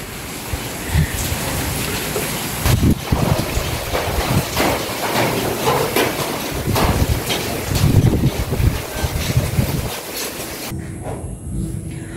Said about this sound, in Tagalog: Ang hangin po doon, oh.